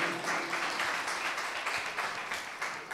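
Audience at a Kapurthala singing audition claps briefly, a loose patter of hands from a modest crowd, moderately loud and steady for a few seconds.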